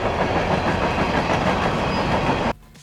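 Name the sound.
train passing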